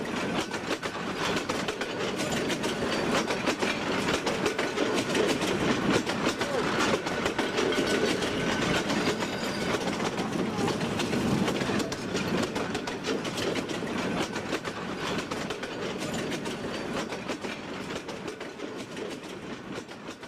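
A train runs on the World War II Burma death railway through jungle, a steady rhythmic clatter of wheels over the track that holds close and constant for the whole stretch with no voices.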